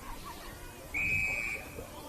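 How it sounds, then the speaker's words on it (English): Umpire's whistle at a senior women's Australian rules football match, a single steady blast of about half a second over low crowd and ground noise, moderately loud against the background. "umpire blows his whistle"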